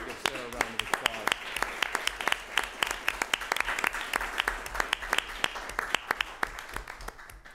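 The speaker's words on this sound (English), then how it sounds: "So I'd like to give Sarah a round of applause." An audience at an environmental justice forum claps steadily, a dense sustained round of applause with sharp individual claps standing out, heard without speech.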